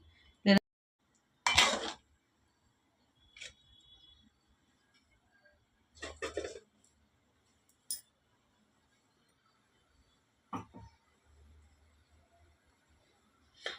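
Metal spoon clanks against a pot as fish pieces are stirred into simmering fish curry, a handful of scattered scrapes and clinks with quiet gaps between them.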